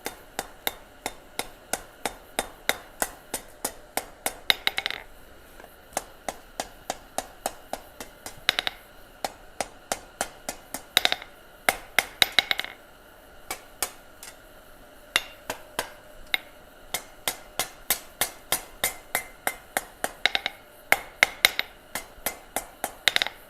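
A blacksmith hammering on an anvil at a live forge session, bright ringing strikes in fast rhythmic bursts with brief pauses between runs, close and sharp.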